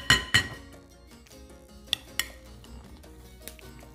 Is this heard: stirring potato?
yes